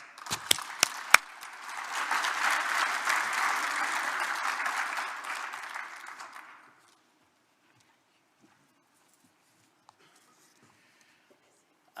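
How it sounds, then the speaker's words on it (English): Warm audience applause greets a government minister taking the stage at a Chile Day business event in London, sustained broadband clapping with a few sharp early claps, lasting about six seconds before cutting to near silence. "Let's give him a warm applause"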